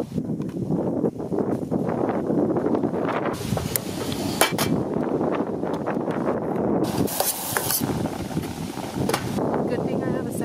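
Strong wind roaring and buffeting outside an SUV, a continuous loud rushing hiss with gusts swelling and sharper rattles and knocks against the vehicle, while a person talks over it.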